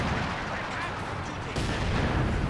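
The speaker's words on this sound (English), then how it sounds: "I think that's Pathfinder artillery. Nope, it's butterfly bombs" Butterfly bombs burst in a Company of Heroes 2 match, a quick, dense patter of small explosions that keeps a steady loudness under a commentator's voice.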